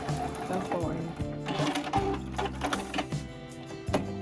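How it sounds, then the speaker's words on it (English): A sewing machine stitches around the edge of a pillow, a close, busy mechanical chatter with rhythmic stops and starts throughout. "Now I'm gonna sew to right here."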